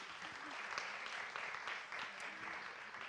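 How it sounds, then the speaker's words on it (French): Applause from a conference audience on women's health in the workplace, a steady wash of many clapping hands held at an even level for the whole span with no pauses. "On peut l'applaudir."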